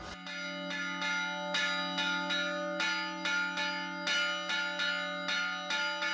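Church bells rung by hand by bell ringers, three bells in a steady repeating pattern, strikes overlapping with long ringing tones that hang in the air, no voices.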